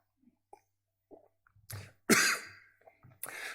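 A preacher's cough during a church sermon: several small throat sounds build up to a sharp, loud cough, then a couple of softer follow-up coughs, close to the microphone with no talking.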